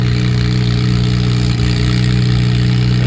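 An antique pulling tractor's engine runs loud and close at a tractor pull in Mt. Carroll, Illinois, holding a steady heavy drone with a slight uneven stumble, not quite running right, and no voices.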